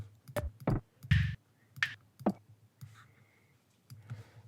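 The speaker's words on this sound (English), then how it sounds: "But like these clicks will sound really cool." Sharp electronic click percussion samples from a sample pack, built for a minimal techno groove, fire as a sparse, irregular run of dry, snappy hits with a few thicker thuds mixed in, close and fairly quiet with nothing else underneath.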